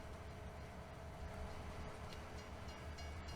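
Train rolling along in the farming video game Farming Simulator 2019 on the Erlengrat map, a steady low rumble of rail cars with faint clatter, continuous and quiet, with no talking.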